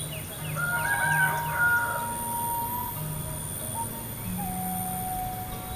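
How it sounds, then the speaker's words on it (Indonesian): Birds calling near a village, with rooster-like crows and clucking fowl over a steady background hum, moderately close and clear, with no talking. "Dan ini ada suara burungnya sahabat"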